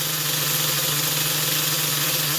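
LRP .30 nitro engine in an HPI Savage RC truck, freshly installed and running for the first time with a slightly high idle, giving a loud, close, steady buzzing drone.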